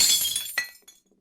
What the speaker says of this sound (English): I hear glass breaking downstairs.